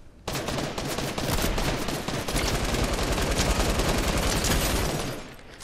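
Sustained rapid gunfire in Fortnite OG, dense overlapping shots and bursts running loud and steady for about five seconds before tapering off.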